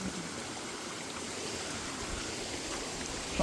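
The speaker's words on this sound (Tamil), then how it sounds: "ஃபுல்லாகவே அருவி அருவி நிறைய அருவி இதை பாருங்க" Rushing mountain waterfalls and streams on Agathiyar Malai (Pothigai hills) give a steady, broadband roar of falling and flowing water, close and continuous with no voices.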